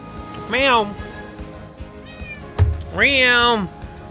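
A human voice imitates a cat, giving two separate meows with a short pause between them, up close and fairly loud.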